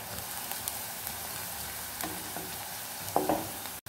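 Finely chopped onions sizzle in a pan while being fried for chicken bhuna masala, a continuous close crackle with a few louder stirring scrapes near the end.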